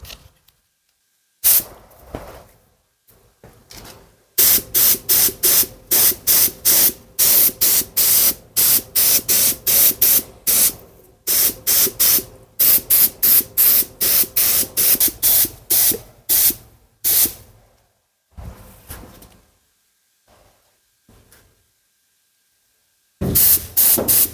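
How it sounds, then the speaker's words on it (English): Spray gun shooting clear coat in repeated short bursts, loud and close, coming in quick rhythmic pulses with brief gaps and longer pauses between passes, and no talking. "I'm going to go ahead and shoot the second-ish coat of clear on."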